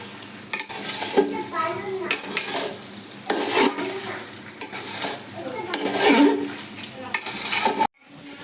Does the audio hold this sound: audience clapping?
no